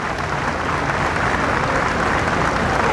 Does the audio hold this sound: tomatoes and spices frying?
no